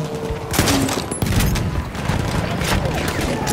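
Enemy machine gun fire crackles through a video game battle as a steady, dense barrage of shots and booms, with a soldier voice calling out over the gunfire.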